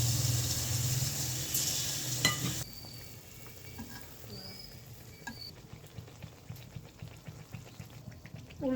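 Palm-sugar rice flour pitha frying in hot oil in a kadai: a loud, dense sizzle for the first few seconds, then a quieter bubbling hiss with scattered small pops and crackles.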